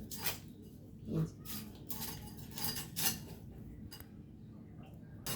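A knife chops fresh hilsa fish into pieces, a series of sharp taps and clinks against a board or pan, spaced irregularly and fairly close, with no talking.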